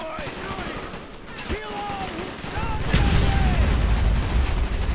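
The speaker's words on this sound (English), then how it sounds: "Oh, that guy up is shooting me." Gunfire from the shooter game Call of Duty: Black Ops 1, with dense bursts of shots and booms building toward the end of the clip, mixed with game effects and speech.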